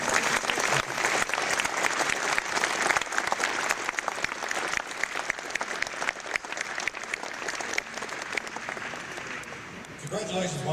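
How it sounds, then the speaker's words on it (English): A banquet audience applauds space pioneers at a gala awards evening, dense sustained clapping that fills the room and carries on steadily, easing toward the end as a voice begins. "So let's have one final round of applause for all of our space pioneers tonight."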